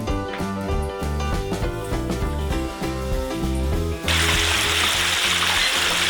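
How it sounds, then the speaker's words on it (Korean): Rhythmic music with a steady beat plays, then a loud, steady hiss and crackle of duck wings deep-frying in oil takes over abruptly. "튀김 소리는 청각과 미각을 동시에 자극하는 예술이죠."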